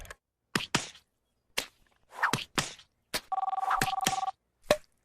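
A cartoon telephone rings once in a short burst of rapid electronic trills, set among sharp comic knocks and thwacks in an otherwise quiet scene.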